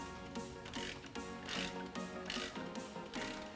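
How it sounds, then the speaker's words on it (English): A half-inch ratchet wrench clicks steadily as it tightens bolts on an aFe rear differential cover on a 2018 Jeep JL Wrangler, each clicking run quick and close. "All you have to do to get this tightened up is put the end of a 1/2-inch wrench in there."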